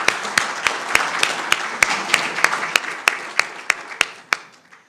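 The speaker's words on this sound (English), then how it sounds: "Let's give her a round of applause." A candidates' forum audience in Burke County applauds a candidate, a steady close wash of clapping with sharp individual claps standing out at a regular pulse, then thinning and fading away near the end.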